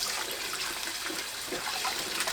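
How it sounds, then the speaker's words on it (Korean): Cold water splashes and swishes steadily as mackerel is rinsed by hand, a close, continuous watery churning. "찬물에 흔들어가면서 3-4번 반복해서 헹궈주세요."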